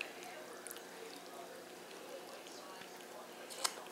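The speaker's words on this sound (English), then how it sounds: "I'm going to take my egg mixture that we have here and I'm going to pour it in" An egg mixture pours from a container over macaroni and cheese in a glass bowl, a soft continuous wet trickle close by, with a small clink near the end.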